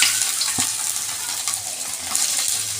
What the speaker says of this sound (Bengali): একদম লাল লাল করে ভেজে নেব রসুনটা